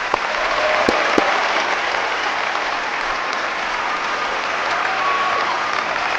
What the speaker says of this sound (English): I think we all just need to take a minute just to applaud him.